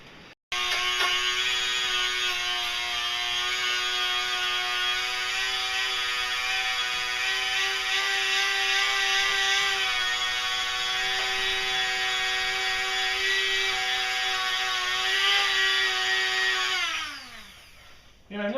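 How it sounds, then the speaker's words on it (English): Tiny wire brush wheel on a rotary tool polishing a metal rod in a wood shop, a steady high-pitched motor whine with the scrubbing brush held constant for about sixteen seconds before spinning down at the end. "it sure did a great job of polishing my rod here"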